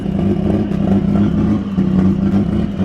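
Turbocharged BMW E46 M3 drift car engine running loud and close, a deep rumbling idle with harmonic throb and slight rises in revs, steady for a few seconds with no talk.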